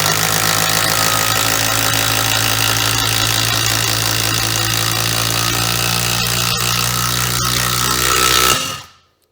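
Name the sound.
Dewalt DCF801 impact driver driving screws into wood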